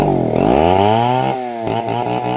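A power saw cuts continuously at a construction site, with a loud sustained whine that rises and then holds steady, broken by short stutters near the end as the blade works through the material.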